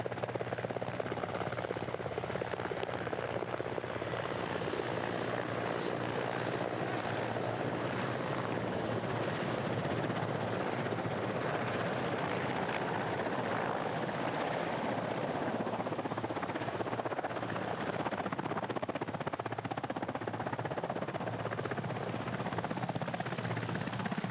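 An airborne search and recovery helicopter flies during the Soyuz MS-01 landing recovery, its rotor and engine making a steady, loud, unbroken drone with nothing else heard.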